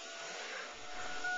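An engine runs with its drive belts lined up, making a steady, fairly quiet whirring hum for a brief moment with no squeal.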